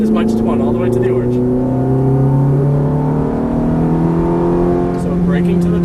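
A Ferrari F430 engine hums steadily on a race track, its droning tones gliding slowly upward as it accelerates, close and continuous, with a voice talking over it.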